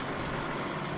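A Volvo FH16 B-triple truck drives along a country road, heard as a steady, dense broadband roar of engine and tyre noise with no speech, constant in level throughout.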